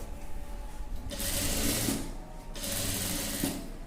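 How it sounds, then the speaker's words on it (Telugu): A sewing machine double-stitches around a dress neckline, its motor whirring steadily with rapid needle chatter that swells in two louder runs, close up and with no talking. "ఇదిగోండి ఇలా డబుల్ స్టిచ్చింగ్ వేసుకోవాలి. మొత్తం నెక్ చుట్టూ కూడా ఇలాగే వేసుకోవాలి."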